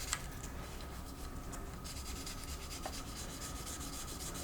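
Steady close scraping and rubbing as excess flash is trimmed and sanded off resin parts of a Hasegawa Lancia Stratos HF Stradale model kit, a continuous soft abrasive texture with a few small clicks.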